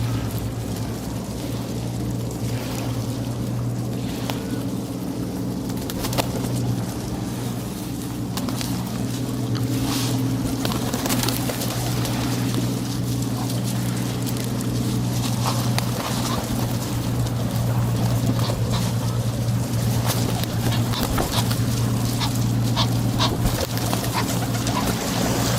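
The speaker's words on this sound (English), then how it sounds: "I've got some quackers coming. And a lot of seagulls and such like." Ducks and seagulls call by the River Thames, with scattered quacks and cries over a steady rumble of water, wind and a passing boat.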